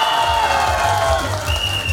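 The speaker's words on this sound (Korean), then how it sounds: "박수." Audience clapping and cheering at a live Korean pumba folk comedy stage show, a dense, loud wash of applause from a crowd, brief and continuous.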